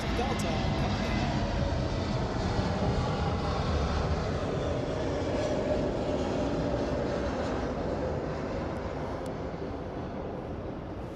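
Delta airliner in its 100-year special livery arriving at Los Angeles International Airport, a broad continuous jet roar that stays loud and steady before easing slightly near the end, with no voices.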